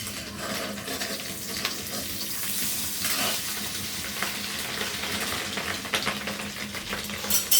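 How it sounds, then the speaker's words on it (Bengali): Steady crackling sizzle of an egg frying in a pan, close and continuous, with faint scraping now and then and no talking. "একটা ডিম ভাজা হয়ে আসছে।"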